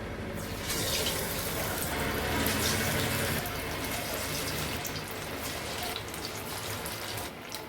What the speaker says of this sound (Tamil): நம்ம ஒவ்வொரு சிக்கனை போட்டு பொரிச்சு எடுத்துடலாங்க